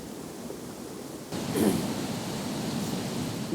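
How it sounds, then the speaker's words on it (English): Water runs steadily beside the remains of an old mill house, a broad soft rushing wash that grows a little louder partway through and continues without talk. "We can hear the water."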